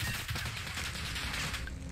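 Dense gunfire in a Warzone Rebirth match rattles continuously for two seconds as loud overlapping bursts, like rapid automatic shots and a fusillade.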